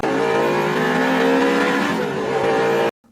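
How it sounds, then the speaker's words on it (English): A loud, steady electric whine with a harmonic buzz from a Holley electric fuel pump in the back of a race car drones for nearly three seconds, close up, then cuts off abruptly into silence. "we're going to see if we can't quiet down the fuel pump I have in the back of my race car"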